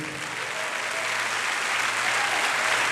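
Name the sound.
church congregation applauding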